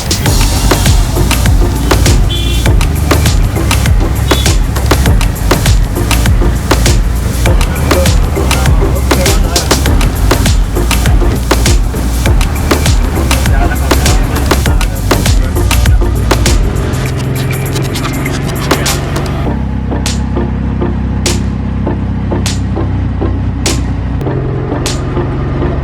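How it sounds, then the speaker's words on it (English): Ride inside a tuk-tuk through Jaipur, India: a steady, loud engine rumble and road noise with repeated rattles and clicks throughout, easing slightly near the end while sharp periodic clacks continue. "we're in a tuk-tuk right now"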